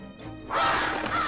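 A crow caws loudly in the Five Nights at Freddy's video game, a harsh, sustained call that swells in after a brief quieter stretch and holds close and full to the end.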